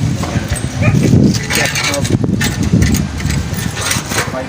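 An Akbaş guardian dog barks in several short bursts amid people talking and outdoor bustle at a dog show in Bursa, the barking moderately close.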